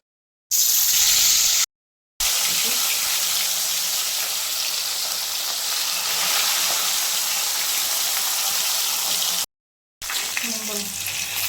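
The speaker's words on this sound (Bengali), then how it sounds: "মাছ ভাজাটা হয়ে গেছে, কড়া করেই ভেজেছি মাছটা।" Steady, dense sizzling of fish frying crisp in hot oil, a continuous crackling hiss broken by short silent cuts.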